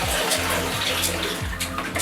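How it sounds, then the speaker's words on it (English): Aquarium water gurgles and rushes steadily through a siphon hose as the tank is drained, a close, continuous watery flow. "siphoning the water out so we don't have to siphon out any buckets"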